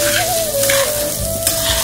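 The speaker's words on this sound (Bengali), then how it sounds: "এখন চালটাকে একটু ভাজা ভাজা করে নিতে হবে।" Polao rice is fried and stirred in a pan with a constant crisp sizzle and a scraping rustle, heard close and loud alongside a steady background tone.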